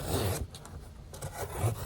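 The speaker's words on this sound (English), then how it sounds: "Starting with some cardboard. This thing is slicing, baby." A thin, flat-ground knife blade slices through cardboard with close, rasping scrapes in two short bursts separated by a brief pause.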